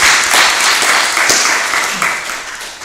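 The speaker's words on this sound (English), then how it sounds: "give a round of applause" A room of listeners at a Buddhist dharma gathering breaks into applause, a thick, even wash of clapping hands that holds steady and tapers slightly toward the end.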